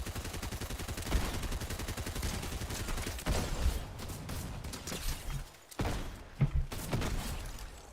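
Fortnite battle gunfire crackling in rapid bursts at a distance, a steady stream of shots with a few louder thumps standing out, no talking over it.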